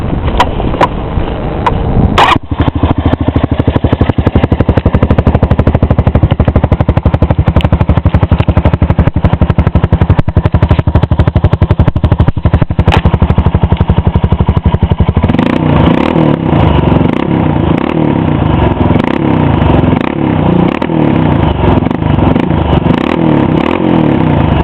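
A Honda Rancher 400 ATV with an HMF exhaust, clutch kit and K&N filter idles with a loud, close, throbbing putter before repeatedly revving in sharp rising bursts.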